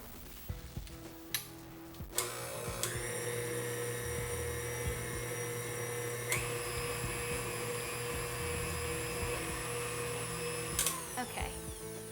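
An electric stand mixer whirring steadily as it combines wet vegan muffin ingredients, a continuous motor drone with a few knocks and bumps at the start and a pitch shift midway, running close and loud.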